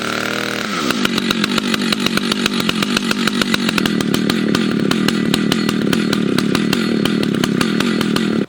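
A chainsaw cuts into a log in a wilderness setting, loud and close, its engine revving in a fast, regular pulsing rhythm after a brief idle at the start, continuing steadily to the end.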